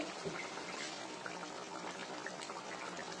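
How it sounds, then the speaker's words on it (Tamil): Paruppu urundai kulambu, a curry with lentil dumplings, boils in a pot with a steady, continuous bubbling simmer, close and moderately quiet. "பாருங்க, குழம்பு நல்லா கொதிச்சு வந்துட்டு இருக்கு."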